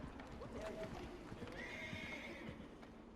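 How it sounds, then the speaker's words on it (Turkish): A horse in Red Dead Redemption 2 whinnies loudly twice over a steady clatter of galloping hoofbeats, close and continuous, with faint game ambience behind. "Atımızı çağıralım."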